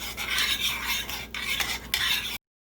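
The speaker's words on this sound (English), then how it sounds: "So you're going to add about a tablespoon of butter and just mix it in." A spoon stirs butter into chicken orzo in a pot, giving steady close scraping and sloshing strokes with a brief pause midway, continuing alone with no voices.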